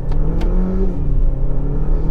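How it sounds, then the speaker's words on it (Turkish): A Renault Megane 1.3 TCe with automatic EDC gearbox accelerates at full throttle with four people aboard, its engine droning loud and close from inside the cabin as the revs climb steadily. "Dip gaz yaptım 4 kişiyle."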